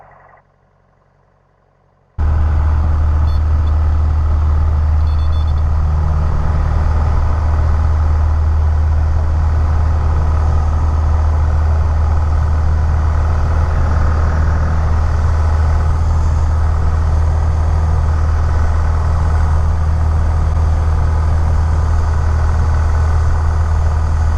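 A light aircraft engine during pre-departure power checks on runway 24 cuts in abruptly after a quiet moment and holds a loud, steady, deep drone close by for the rest of the clip.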